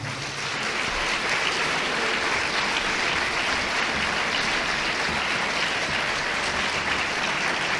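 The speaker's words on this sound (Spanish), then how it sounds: "Le damos un fuerte aplauso al Señor." A church congregation applauds loudly and steadily throughout, dense clapping filling the space without a break.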